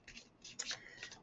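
Angel oracle cards are shuffled by hand in soft, quiet bursts of papery riffling and sliding, close up with no talking.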